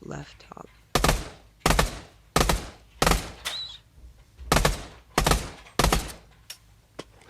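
Pistol shots fired at a target in the VR shooter Pavlov: about nine sharp, loud reports with irregular spacing, each with a short tail, over quiet room tone.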